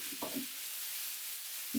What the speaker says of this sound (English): Stir fry for about 1 minute to coat the pork in the fragrant oil